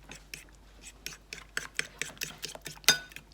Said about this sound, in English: Just mix. Whisk.